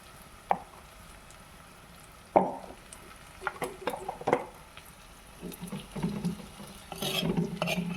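Chili powder and spices sautéed in a pan for fish curry: scattered scraping stirs and taps of a utensil against the pan over a low sizzle, with clattering and busier frying toward the end.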